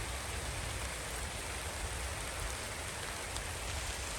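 Heavy rain falls steadily in a continuous broad hiss, even and unbroken throughout, with no voices.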